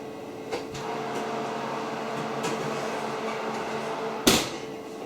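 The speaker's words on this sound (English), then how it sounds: "I'm going to go and get the bread back out of the oven." A home oven door opening as baked pizza bread is taken out: a single short clunk rises briefly above a steady kitchen appliance hum, with a fainter knock earlier.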